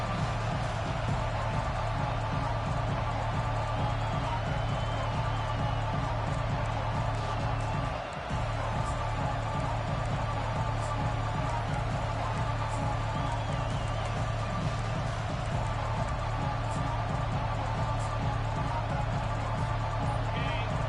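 Stadium crowd noise in the College Football 25 video game, a dense continuous roar from a packed stadium that stays steady and loud throughout, with faint cheering swells and no clear talk.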